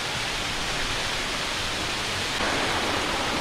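A waterfall with water flowing down below it, a steady loud broadband rush without a break, close and continuous.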